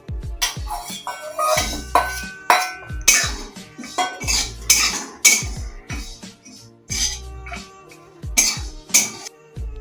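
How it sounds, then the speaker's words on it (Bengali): Sesame seeds and almonds dry-roasting in a pan on a gas stove, tossed with a spatula: close, rhythmic metallic scrapes, clinks and rattles of the seeds and the utensil against the pan, repeating with short gaps. "কাঠবাদাম ভেজে নিচ্ছি"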